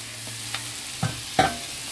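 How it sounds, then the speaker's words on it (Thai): Pork with boiled bamboo shoots is stir-fried in a pan, a soft background sizzle broken by a few scraping stirs of the spatula over two seconds, close and without speech. "แล้วก็ผัดให้เข้ากันค่ะ"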